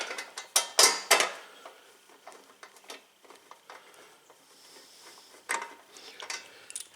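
Bolts are fitted while mounting the gas tank on an Ariens snow blower, heard as sporadic close metallic clinks, taps and small rattles with quiet gaps between them.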